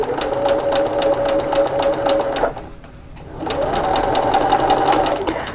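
A sewing machine stitches to finish a toy mouse, running loud and close in a steady mechanical whir. It stops briefly midway, then starts again for a second sustained run of stitching.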